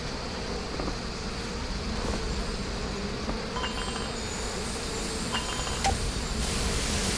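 Steady insect buzzing of bees in the video game Trine 2 drones on throughout, a dense hum with faint clicks and small game effects layered on top.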